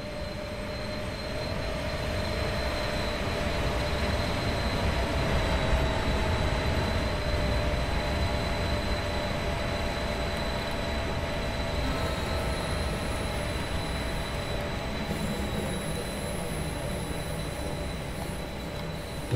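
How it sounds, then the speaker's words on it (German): A Swiss RABe 523 FLIRT electric multiple unit pulls away in Train Sim World 2, a continuous rumbling rail noise with a steady high electric whine and faint wheel squeal, sustained and fairly close. "Der Zug nach Lenzburg fährt ab"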